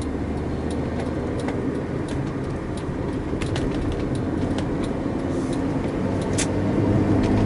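A Honda Civic on a test drive after a knock sensor sensitivity adjustment, giving a steady low rumble of road and engine noise from inside the cabin that swells slightly toward the end.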